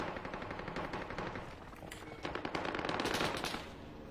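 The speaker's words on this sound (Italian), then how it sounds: "Ha sparato due colpi." Rapid bursts of gunfire from the Siren Head video game rattle in quick volleys, fairly quiet but continuous, without any talk.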